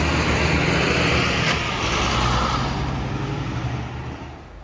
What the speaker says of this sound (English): excuse me while a noisy Jet2 transfer bus passes.